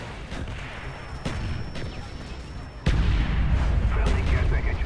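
Artillery strike in Black Ops, a run of booming impacts that builds into a loud, sustained barrage of explosions near the end, with a voice talking over it.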